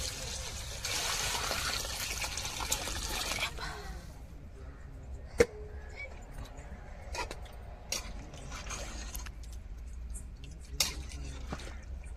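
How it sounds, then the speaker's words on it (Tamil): Water pours into a cooking pot of rice for fish biryani, a steady filling rush for a few seconds, then quiet with occasional sharp clinks of utensils and the pot. "இப்போ நம்ம அரிசி எவ்வளோக்குள்ள எடுத்தோமோ அந்த அளவு தண்ணியே வச்சுக்கிருவோம்"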